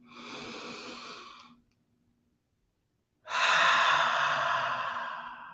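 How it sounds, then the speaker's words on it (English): Slow, deep breaths during a guided meditation: a long soft exhale, a pause of near silence, then a fuller, louder inhalation, close and alone. "So you're just going to breathe in."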